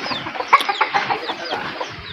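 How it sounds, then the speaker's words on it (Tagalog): Several chickens cluck and murmur close by in a busy, overlapping chorus, with short sharp calls standing out. "Dahil pong manok dito."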